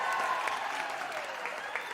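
Graduation ceremony audience at Unisa applauding in a steady, dense wash of many hands clapping, filling the hall evenly for the full stretch without a break.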